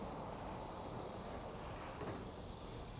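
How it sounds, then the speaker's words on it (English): Oil dripping onto hot grill coals beneath vegetable skewers, giving a steady, continuous loud hiss and sizzle of flaring fire with no breaks. "And that oil, as it hits the coals, is gonna cause that flare up"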